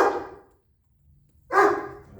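A dog in a crate gives two sharp, loud barks close by, separated by about a second of near silence.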